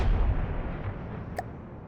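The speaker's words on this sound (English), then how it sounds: "so far, this is the level of big boom it does" Weapon explosion in the From the Depths video game: a deep, booming blast that opens the sound and decays into a low rumble, followed by a short, sharp pop, with no talk.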